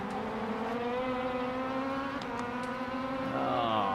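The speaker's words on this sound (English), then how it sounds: "the opponent's engine sounds is much louder than my own engine sounds" Formula 4 race car engine from an opponent in a racing video game, a steady loud droning whine with harmonic tones holding pitch, then rising sharply near the end as it revs.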